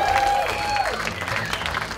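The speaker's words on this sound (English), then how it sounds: "so clap for that." Audience applause at a comedy show in Vancouver, a dense, steady wash of clapping that fills the whole stretch at close range, with a thin whistle-like tone riding over the start.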